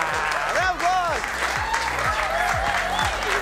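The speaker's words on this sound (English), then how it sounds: "Round of applause!" Studio audience applauding as a Pan Pacific and Commonwealth Games champion is welcomed onto a talk show, steady loud clapping with a host's voice calling out over it throughout.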